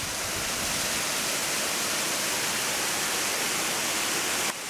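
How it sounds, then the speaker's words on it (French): A mountain waterfall crossed on a high trail in the Belledonne range near Lac Blanc pours with a loud, steady rushing roar that fills the whole stretch, close by and unbroken, with no voices over it. "Petite traversée de cascade, c'est très joli là."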